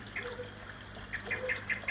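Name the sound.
birds at a pond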